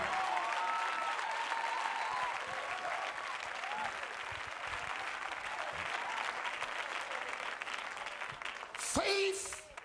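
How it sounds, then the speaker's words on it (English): A church congregation claps and applauds in a sustained, dense patter that holds steady across the room, swelling slightly near the end, with voices mixed in beneath the clapping. "Why don't you clap your hands for the Lord?"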